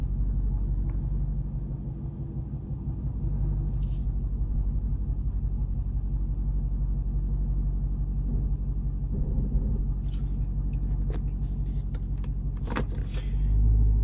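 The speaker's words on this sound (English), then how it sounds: "pull the car out of the garage" A Dodge Hellcat's supercharged V8 idles in a garage, a steady low rumble with a deep even pulse throughout, joined by a few brief higher clicks and rattles near the end.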